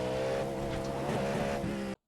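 Cadillac GTP prototype race car in iRacing, its engine droning steadily with a held tone, carried on part throttle in second gear through a corner with a hint of tire scrub, cutting off abruptly.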